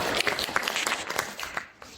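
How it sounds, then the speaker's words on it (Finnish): Brief applause from a small audience at a Finnish pensioners' event, made of scattered close hand claps that fade out toward the end, with no talking over them. "Tällä voisi antaa aplodit minun mielestä tälle."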